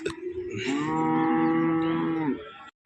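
A cow at a cattle market in Erode gives one long, loud, close moo lasting nearly two seconds, with faint market background before and after.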